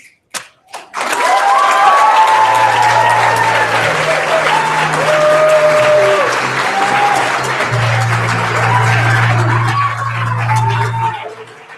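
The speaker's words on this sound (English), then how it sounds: "Applause, applause." An audience at a youth poetry slam bursts into loud applause and cheering after a performance. The clapping is close and sustained, with shouts and whoops on top and a low hum underneath.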